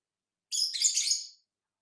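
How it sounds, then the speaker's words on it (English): Pet birds chirp indoors in one bright, continuous burst of high twittering lasting under a second, close and clear against a silent background. "Sorry about my birds, guys. They're wanting outside,"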